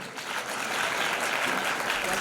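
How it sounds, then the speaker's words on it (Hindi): Applause at a community award ceremony honouring a teacher holds as a steady, moderately loud patter of many hands throughout, with no speech over it. "लड़कियां तालियां कम बज रही है"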